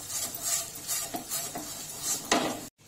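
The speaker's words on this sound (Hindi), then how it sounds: "अब हम इसको अच्छे से मिक्स कर लेंगे।" Melted jaggery with crushed black pepper, stirred in a pan for ginger candy, making soft repeated scraping strokes and light utensil clinks, close and moderately quiet, ending in a brief silence.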